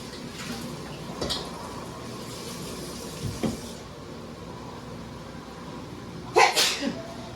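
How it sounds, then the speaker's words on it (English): A person sneezes after handling cayenne pepper while cooking taco night at home; a sharp, loud sneeze burst lands near the end, with faint kitchen sounds and smaller bumps before it. "Pepper and that cayenne pepper always have me sneezing, y'all."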